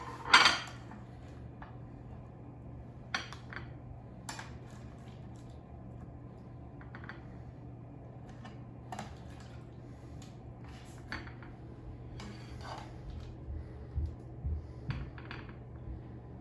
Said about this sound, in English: Now I will remove it to a serving plate.